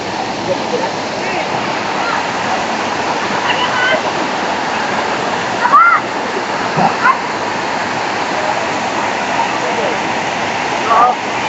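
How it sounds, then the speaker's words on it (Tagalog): Steady broadband rush of a river waterfall at Istrabiyal in Bulacan, with water splashing over slippery rocks; people talk briefly in the background. "yung falls doon"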